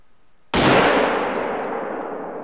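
A single sharp hunting gunshot in the PS4 game theHunter: Call of the Wild bursts out after a quiet moment, then a long noisy decay rings on to the end.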